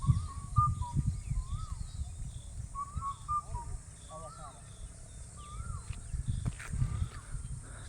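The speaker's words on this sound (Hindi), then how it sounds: "ये वो पक्षी के मैं बहुत करीब आ गया हूँ। ये आवाज़ मैंने पहली बार सुनी है" A bird that is not a cuckoo calls repeatedly from close by in a forest, giving short, warbling, rising-and-falling notes in bursts while someone talks over it.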